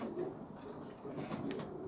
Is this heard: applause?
no